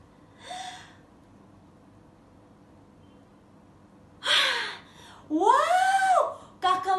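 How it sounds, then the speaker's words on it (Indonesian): Children take audible deep breaths, with a brief sharp inhale early on and then louder gasping, strained breath sounds toward the end, close and clear against a quiet background. "adik-adik tolong tarik nafas adik-adik ya"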